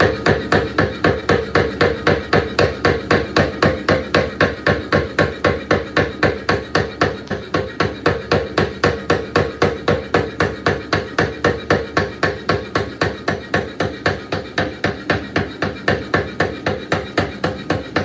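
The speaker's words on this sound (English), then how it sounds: "now I'm just using this back corner of the hammer to kind of wash that material around and pull it out." A hammer strikes tip-welded steel in a fast, steady rhythm of sharp metallic blows, repeating evenly and loudly for the whole stretch with no talking.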